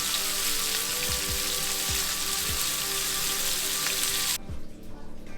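Breaded white bass and walleye fillets fry in a pan as a steady, dense sizzle with scattered pops and crackles. The sizzle cuts off near the end.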